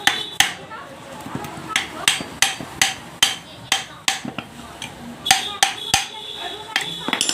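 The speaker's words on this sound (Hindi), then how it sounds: "अब इसको हथौड़े से ठोकेंगे तो ये खुल जाएगा।" A hammer strikes a part of a 0.5 HP Tullu water pump motor to knock it loose, about twenty sharp metallic blows in an uneven rhythm, close and loud, with a voice talking between the hits.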